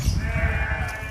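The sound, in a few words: sheep bleating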